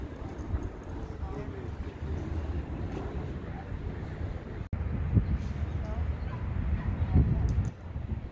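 A chihuahua outdoors near a much larger puppy, giving sharp yips and whimpering cries at close range, scattered across the clip over continuous background noise, with a person talking.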